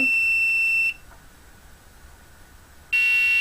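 An Arduino-driven piezo buzzer sounds a steady, piercing electronic tone alongside blinking LEDs, cutting off for about two seconds before starting again at full loudness.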